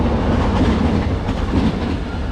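Train rolling along a railway line in Portugal, a steady, loud rumble with faint rhythmic clatter from the wheels, continuous throughout and without speech.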